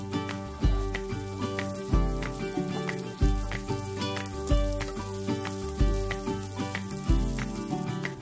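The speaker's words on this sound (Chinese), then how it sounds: "黄油融化后，放入洗干净沥干的大米。 大米翻炒到不粘在一起就可以了。" Washed, drained rice stir-fries in melted butter for a Turkish-style chicken rice dish, a constant close sizzle broken by regular scraping strokes roughly once a second, with soft tonal background music underneath.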